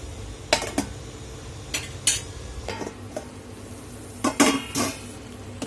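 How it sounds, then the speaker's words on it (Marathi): Metal clanks and clinks as a lid is set on a pan of mango shira in a home kitchen, with several sharp knocks spaced apart and quiet handling between them, no talking. "आणखीन एक दोन मिनटं आपण झाकण लावून ह्याला ठेवून देणार आहोत"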